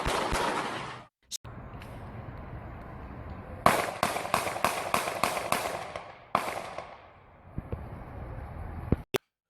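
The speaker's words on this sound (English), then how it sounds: "That's when he fires his gun at the woman 5 times." A burst of gunfire aimed at a woman, about half a dozen sharp cracks fired in rapid succession, loud and close, followed by a rough noisy stretch and one more isolated crack near the end.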